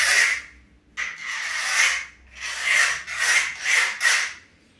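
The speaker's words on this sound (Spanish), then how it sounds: "con un palillo le podemos hacer otro sonido" A rain stick scraped with a small stick makes a rough, loud rasping sound in repeated strokes, one long sweep and then several shorter rhythmic scrapes, close up with no talk.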